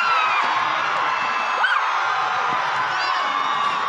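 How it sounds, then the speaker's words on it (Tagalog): Crowd of participants at a street dance festival awarding cheering, whooping and shouting together, a loud continuous roar with high yells rising above it throughout. "Talagang palakasan ng hiyawan at sigawan ang ating mga participants, di ba?"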